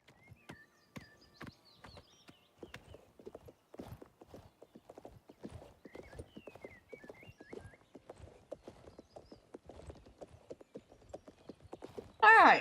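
Horse hooves clip-clop at a steady walking pace in the video game Oblivion Remastered, fairly soft and even throughout, with a few faint tonal game sounds early on and a loud burst at the very end.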